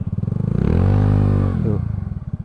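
A Honda Beat scooter with a racing CVT revs up from a throbbing idle into a loud, sustained rising drone, then drops back to a chugging idle, heard close.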